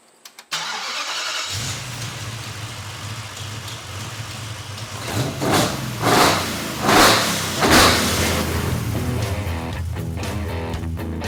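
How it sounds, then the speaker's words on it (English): A 500 hp Nissan VK56 V8 with eight throttle bodies, installed in a Hako, fires up for the first time: a starter whirr, then a rough idle broken by several loud, swelling revs, close by. "we're working towards getting this VK56 fired up in the Hako"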